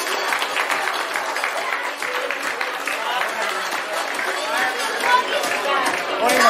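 Crowd applause at an outdoor hat festival in Novi Bečej: many hands clapping steadily, mixed with crowd chatter and a voice talking over it.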